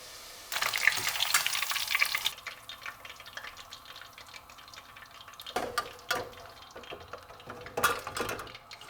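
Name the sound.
mackerel (ayila) frying in oil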